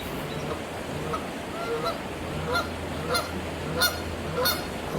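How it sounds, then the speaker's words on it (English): Geese honk along a park trail by a lily-filled canal, a run of loud, nasal honks coming every second or so over a faint outdoor background. "We got a goose."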